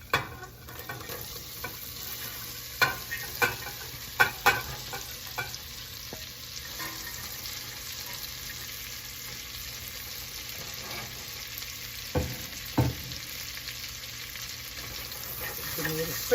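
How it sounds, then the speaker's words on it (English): Onions sizzle steadily in butter in a pot while being stirred now and then, a constant close frying hiss broken by occasional scrapes and clinks of the spoon. "Give them a little stir, coat them with that butter, season them with some salt."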